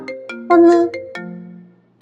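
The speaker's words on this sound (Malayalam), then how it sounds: "അമ്മൂമ്മയുടെ ഫോൺ ഇപ്പൊ റിങ് അടിക്കും" A phone ringtone plays a short melodic sequence of bright electronic tones, loud and clear, with a brief pause before it starts again.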